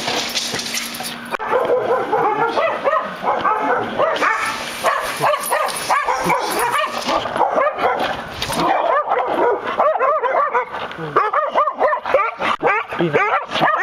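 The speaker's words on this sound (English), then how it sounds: "I think we just met the neighbor dog." A neighbor's dog outside a new home barks, yips and whimpers in rapid repeated bursts throughout, fairly loud and close, with barely any talk in between.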